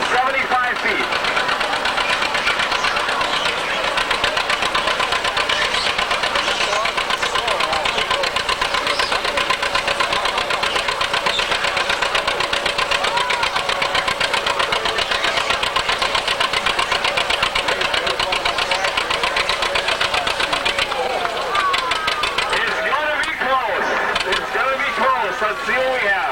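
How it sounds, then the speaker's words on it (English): A 1937 unstyled John Deere A tractor pulling at a threshermen's show, its engine a steady loaded drone with a knocking beat for over twenty seconds, heard at some distance under an announcer's voice and crowd noise. "1937 unstyled John Deere A. He's got to beat 75 feet."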